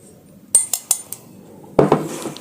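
Dry scone ingredients with sugar and salt being mixed in a bowl, a few sharp utensil clinks against the dish followed by a denser burst of scraping and clattering near the end, close and fairly loud.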